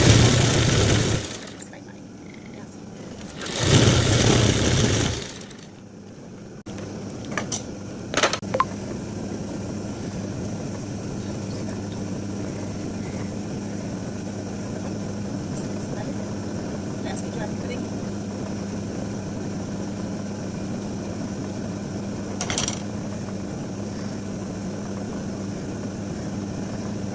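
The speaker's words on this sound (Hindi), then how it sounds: "अब हम एक जो सिलाई मारेंगे वो इलास्टिक के ऊपर मारेंगे" A sewing machine runs steadily, stitching across the elastic waistband of a pair of pants, a continuous close mechanical hum with a few brief clicks and no talking over it.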